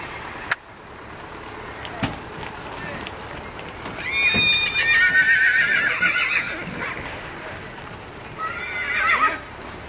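Horses at the Skaryszew horse fair whinny loudly in several long neighs, with scattered hoof clops and sharp knocks nearby, while people talk in the background.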